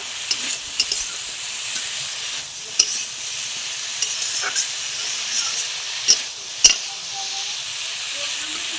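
Stir-frying in a pan: a steady broadband sizzle runs throughout, broken by scattered clicks and scrapes of a utensil against the pan, fairly close and unaccompanied by talk.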